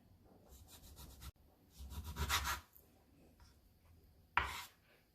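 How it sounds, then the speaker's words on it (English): Knife slicing beef eye round thinly on a board, a series of short scraping strokes in bursts with brief pauses between cuts, close and fairly quiet. "Slice the beef. Try to get it as thin as you can."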